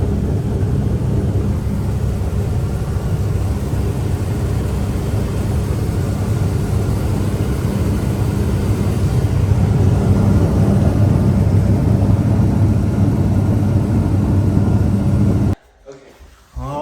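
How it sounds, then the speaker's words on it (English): A loud, steady low roar of an airplane cabin in flight continues with no break, then cuts off abruptly near the end. "I'll see you guys on the airplane"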